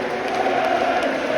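Football fans clapping and crowd noise inside the stadium at an Ipswich versus Leeds match, a steady dense wash of applause filling the whole moment without pause.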